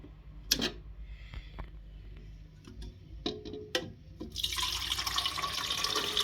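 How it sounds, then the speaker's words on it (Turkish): Water is poured into the reservoir of an Arçelik semi-automatic espresso machine: a few faint clicks and taps are followed by a steady, close splashing pour that continues to the end in a quiet room. "Öncelikle haznemize su koyuyoruz."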